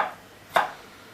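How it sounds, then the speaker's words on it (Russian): A single sharp knife chop through garlic on a board, close and crisp, with near silence around it. "Чеснок просто давим и режем"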